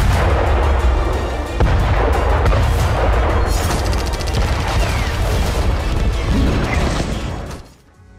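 Heavy artillery fire striking the Abu Akar building in Khan Younis, loud continuous booming and crashing blasts that fade toward the end.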